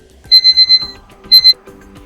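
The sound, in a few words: alarm ringtone preview on a Tecno Pova Neo 2 smartphone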